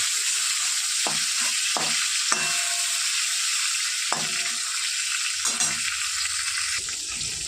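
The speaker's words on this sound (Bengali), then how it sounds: "হালকা করে ভাজবো" Live fish fry lightly in oil with a constant close sizzle, punctuated by several dull knocks and scrapes of a spatula against the pan.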